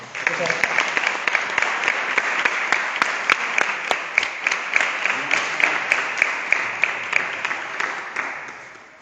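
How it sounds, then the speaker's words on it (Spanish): An audience at a talk applauds loudly and steadily for several seconds, with a few sharper individual claps standing out before the clapping tapers off at the end. "Se merece un fuerte aplauso"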